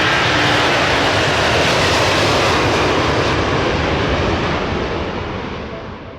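A Swearingen Metro II cargo turboprop operated by Carson Air runs its engines ahead of departure, a loud, steady broadband roar that holds evenly and then gradually fades toward the end.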